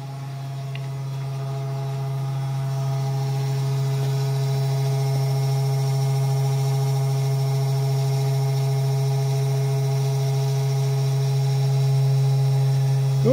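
The small 12-volt motor of a mini CNC runs as a steady, low electrical hum that stays constant throughout, with no voices.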